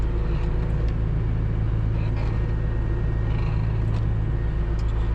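A farm machine's engine idles up steadily on a bright morning, a continuous low rumble that stays loud and close with no change across the moment, alone without talk.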